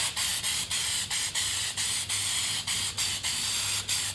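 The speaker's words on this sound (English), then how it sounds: "give this vinyl wrap a few more sprays." Spray can bursts coating a car with vinyl wrap during a Miata rust repair: about a dozen short, loud hissing sprays in quick rhythm, each separated by a brief gap, close by with no talk.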